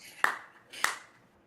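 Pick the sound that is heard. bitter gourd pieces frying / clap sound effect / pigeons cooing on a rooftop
clap sound effect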